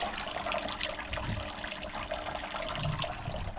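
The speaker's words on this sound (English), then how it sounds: "put my little water feature on just to listen to while I'm organising" Small garden water feature running inside a greenhouse, a soft continuous trickle and splash of falling water, steady and faint throughout with no voices.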